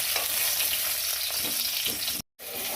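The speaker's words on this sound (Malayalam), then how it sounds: "ഇപ്പം നമ്മുടെ നാരങ്ങ നന്നായിട്ട് വഴന്നിട്ടുണ്ട്." Lemon pieces sautéing in a pan for pickle, a steady close sizzle of frying with light stirring scrapes, briefly cut to silence near the end before the sizzle resumes.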